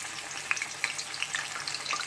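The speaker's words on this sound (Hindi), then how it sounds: "और अब इसमें इसको फ्राई करते हैं छलनी समेत" Chana daal frying in hot oil while held in a strainer, a bright continuous sizzle and bubbling with scattered crisp pops, close and moderately loud, no voices.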